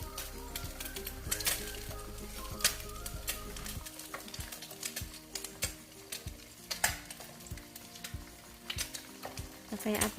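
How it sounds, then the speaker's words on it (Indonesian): An egg fries in oil in a pan over low heat for an Indonesian telur ceplok, a steady close sizzle with scattered clicks and taps of a utensil against the pan. "Setelah itu kita bikin telur ceploknya."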